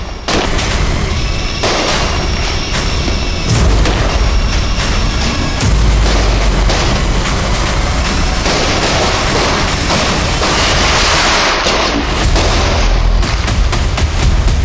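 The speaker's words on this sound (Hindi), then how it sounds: "मैं जानता था कि दिवाली के शाम में पटाखों के बीच" Diwali evening firecrackers going off in a rapid series of loud bangs and crackling bursts, dense and overlapping throughout, with no voices.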